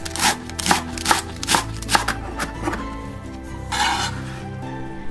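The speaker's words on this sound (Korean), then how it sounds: "부추 한 줌은 쫑쫑 썰어주세요." A knife chops a handful of chives on a cutting board in a home kitchen, striking in a quick, even rhythm of sharp, close taps, followed by a brief clink of dishes.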